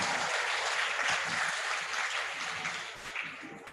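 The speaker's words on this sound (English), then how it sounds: "Could we have another round of applause for the band," An audience at an International Youth Day celebration applauds a band, a dense wash of clapping that holds steady and then gradually thins and fades out.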